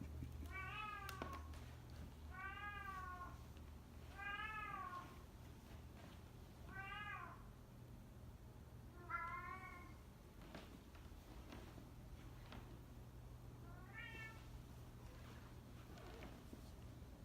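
A house cat meows repeatedly indoors, about seven drawn-out meows spaced a second or two apart, faint and somewhat distant against a quiet, low room hum.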